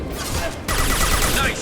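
Gunfire in the video game Mass Effect 2, a sudden dense burst of shots cutting in partway through and continuing as a loud volley over a steady low rumble of in-game ambience.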